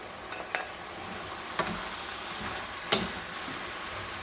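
Yuba stir-fried in a wok with wood ear fungus and green and red pepper slices: a faint, steady sizzle broken by a few quick utensil scrapes, close by and with no talking.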